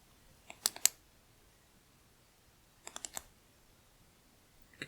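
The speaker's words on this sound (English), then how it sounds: "just cycle through the strobe modes" A Wurkkos TS10 compact flashlight running Anduril 2.0 gives quick clusters of sharp, faint button clicks, first a pair of clicks, then three or four a couple of seconds later, in a quiet room with no speech.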